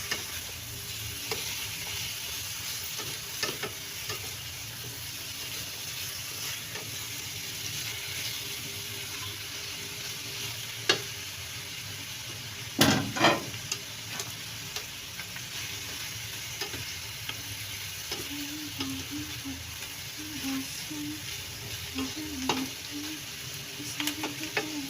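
Pork frying in a pan, a steady soft sizzle running throughout with occasional scrapes and clinks of stirring, fairly quiet and close, with no talking.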